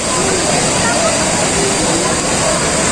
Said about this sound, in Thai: นี่นะท่านผู้ชมครับน้ำตก โตนแปรทองนะครับ